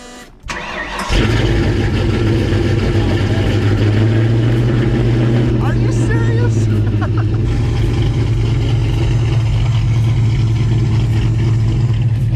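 A small-block Ford V8 with Holley Sniper EFI in a coupe fires up and settles into a loud, steady idle with a deep, lumpy rumble that continues unchanged.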